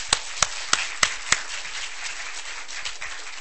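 Audience applause at an Internal Medicine Grand Rounds lecture, five sharp claps spaced evenly at first, then a softer scattered patter fading out.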